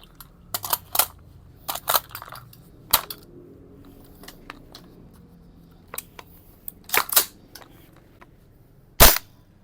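Airsoft WE M4 CQB rifle with an open bolt firing on full auto: short bursts of sharp, snappy cracks come in several clusters, with quiet gaps between them. The shots are close and fairly loud, with no talking.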